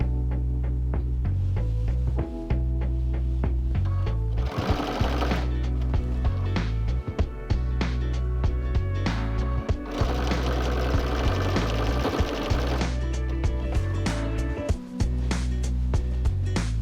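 A sewing machine quilting joined stitch-and-flip blocks, passing over the bumps of seams, running as a loud continuous rapid mechanical chatter with slight shifts in pace and texture throughout.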